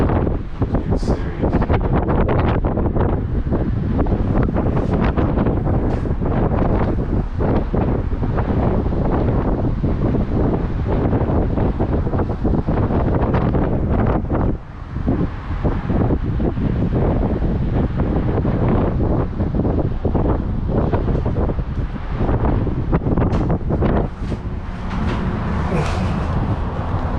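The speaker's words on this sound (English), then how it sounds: "You can hear the wind." Strong, relentless wind buffets a Disney Skyliner gondola cabin in high winds, a loud roaring rumble with gusty surges and rattling that never lets up.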